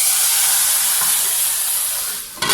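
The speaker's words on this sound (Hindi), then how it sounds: "अब इसके अंदर तड़का लगा दिया" A loud, continuous crackling sizzle of spices tempering in hot oil for shahi dal, fading slightly before a brief clatter at the end.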